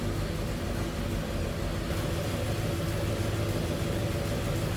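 The engine of a 1936 Packard 120-B Sport Coupe idles smoothly, a steady, even low rumble with a dense mechanical hum that holds constant throughout, close and unaccompanied by voices.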